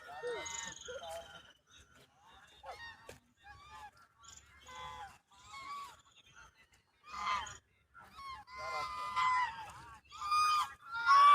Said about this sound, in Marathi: बदक पाहायला जाऊ चला.